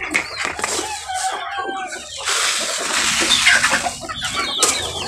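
Chickens on a small mini farm cluck and a rooster crows during feeding, with steady overlapping fowl calls and a busy close-up flock throughout.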